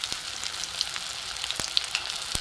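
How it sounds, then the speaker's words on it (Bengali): Bitter gourd slices frying in mustard oil in a pan, a steady soft sizzle with occasional crackles and pops, close and fairly quiet. "আমি সর্ষের তেলেই ভাজছি"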